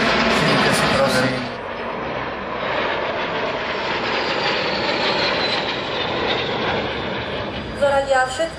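Aircraft engines roar loudly at an air show, a sustained powerful drone that fades a little and then swells again near the end, with voices partly heard over it.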